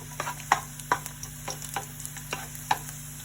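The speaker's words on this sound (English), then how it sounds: "So now we're ready to stir fry all the spices, the garlic." Spices and garlic stir-fried in an oiled pan give a soft, steady sizzle, with light scraping strokes of stirring at irregular moments. The sound stays close and fairly quiet.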